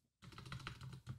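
Quick computer keyboard keystrokes as a password is typed, a close, steady run of clicks across about a second with a brief pause before the last taps, no voice over them.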